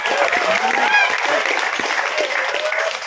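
A crowd at a Batam regional election campaign rally breaks into applause, a dense, loud wash of clapping with a few voices and shouts mixed in throughout.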